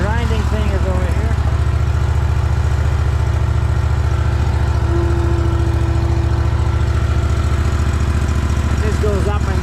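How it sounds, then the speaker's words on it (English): Small engine idling steadily on a tracked stump grinder, a continuous low throbbing drone close by for the whole stretch, with a person talking over it. "Oh, this is the Stump grinder."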